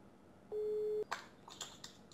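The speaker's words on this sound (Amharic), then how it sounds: "ይቅርታ ግን እየደወልኩለት ነው፣ በቪዲዮ ኮል ነው፣ እየጠራ ነው።" A WhatsApp video call rings out as a single steady electronic tone lasting about half a second, followed by a few faint clicks and taps on the phone.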